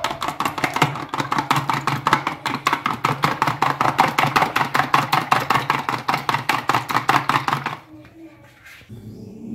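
Eggs are beaten with black pepper and salt, a rapid even run of close whisking taps for about eight seconds before it stops, with faint voices in the background.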